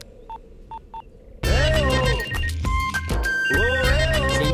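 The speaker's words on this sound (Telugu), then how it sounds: "ఆగు, అడిగి ఒకసారి ఫోన్ చేద్దాం" A telephone number is tapped out on a keypad: three short evenly spaced dial tones sound, then loud film music and voices burst in and carry on over the rest.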